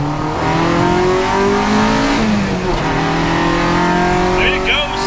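A Honda car is driven hard uphill, its engine revving loudly and rising in pitch throughout, with a strong steady roar and some road noise. A voice talks over part of it.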